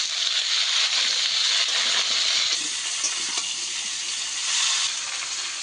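Green banana, potato and green chili sauté in hot oil with a loud, steady close sizzle and faint stirring scrapes underneath, the hiss swelling and easing slightly throughout.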